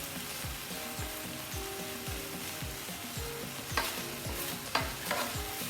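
Beef and broccoli sizzle over high heat in a skillet, with a steady fry hiss and rhythmic scraping as the food is stirred and tossed. A few sharper clatters stand out near the end.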